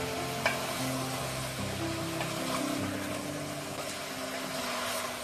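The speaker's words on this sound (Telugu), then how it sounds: "ఆనపకాయ ముక్కలు, వేసి 2 మినిట్స్ కలుపుతూ వేయించుకోవాలి." Bottle gourd and tomato pieces stir-frying in a pan, an even, moderately loud sizzle with faint stirring scrapes and a low background hum, no one talking.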